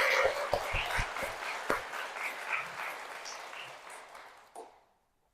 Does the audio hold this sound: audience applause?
yes